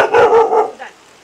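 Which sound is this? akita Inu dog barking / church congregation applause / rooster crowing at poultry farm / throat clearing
akita Inu dog barking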